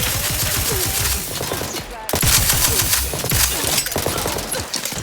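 Heavy gunfire in the Outer Worlds 2 game, rapid machine-gun bursts and overlapping shots firing continuously, loud and close, with a brief gap partway through.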